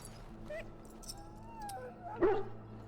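A muzzled hound in the fantasy video game Dragon Age Origins lets out faint whimpers and a short yip over a low, quiet background hum, with one louder whining cry near the end.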